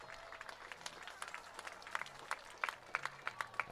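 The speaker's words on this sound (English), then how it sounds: "a nice round of applause there for the injured player" Spectators at a Friday night high school football game clap for an injured player, a faint, scattered ripple of applause that picks up into sharper claps toward the end.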